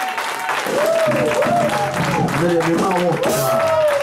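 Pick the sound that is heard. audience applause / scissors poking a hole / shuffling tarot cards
audience applause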